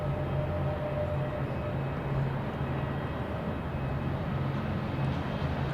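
A Southwest airliner coming in to land at Boston Logan Airport gives a steady, loud broadband jet roar that holds constant without a break.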